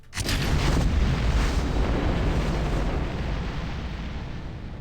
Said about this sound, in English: Make rockets go now.